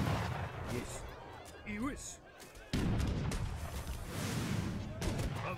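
Rocket artillery salvos from the real-time strategy game Age of Empires III, a loud burst of firing and booming impacts with a sudden heavy blast partway through, under a player's excited talk.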